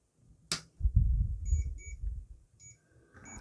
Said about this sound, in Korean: 자, 역시나 보시면 문제가 있다고 알람이 울리죠.